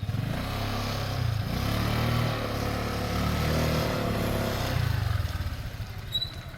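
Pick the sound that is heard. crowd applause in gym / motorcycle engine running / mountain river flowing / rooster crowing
motorcycle engine running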